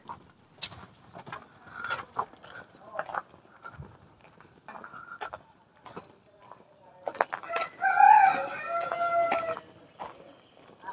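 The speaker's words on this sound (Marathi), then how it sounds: "कुठला कोंबडा आहे" A rooster in a village crows loudly and close by in one long, wavering call near the end, with scattered clucks and farmyard noises before it.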